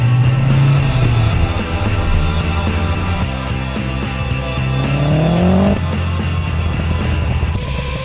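A turbocharged VW Golf 2 fitted with a Pandem Rocket Bunny wide-body kit drives hard and loud, its engine note climbing and falling through gear changes, with whining tones and tire squeal close up and no talking.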